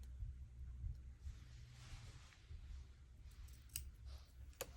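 Scissors cut a corner off a paper strip, with a few soft, quiet snips and clicks over a low background hum.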